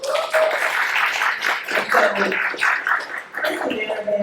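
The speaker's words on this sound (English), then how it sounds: "If you guys can give them a round of applause." An audience at an ECSU panel discussion breaks into steady applause, a dense wash of many hands clapping continuously at close range for several seconds.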